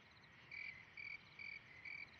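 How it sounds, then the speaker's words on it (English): A single cricket chirps in four evenly spaced, high trilling bursts about half a second apart, faint and alone against quiet night background. "That was a cricket."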